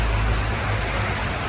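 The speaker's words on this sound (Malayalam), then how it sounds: "മഴ നോക്കൂ." Heavy rain falls steadily, a loud, dense hiss of drops on surfaces with no voices.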